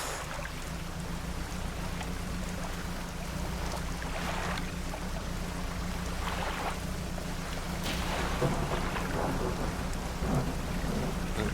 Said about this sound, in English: Looks like stormy weather.